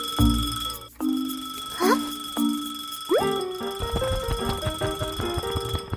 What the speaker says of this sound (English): Suddenly, the clock starts ringing loudly.